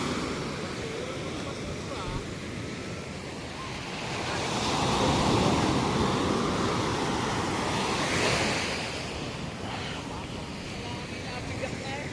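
Steady roar of sea waves washing on shore, swelling louder midway, with wind buffeting the microphone throughout.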